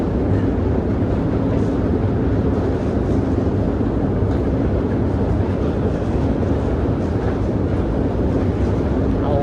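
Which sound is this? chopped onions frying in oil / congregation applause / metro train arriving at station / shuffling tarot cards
metro train arriving at station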